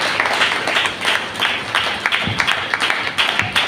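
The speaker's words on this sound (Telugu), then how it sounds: "చప్పట్లు కొట్టి దేవుని మహిమపరుస్తారు." Worshippers at a New Year church gathering clap in praise, a lively burst of many hands striking in quick, uneven rhythm, close and prominent throughout.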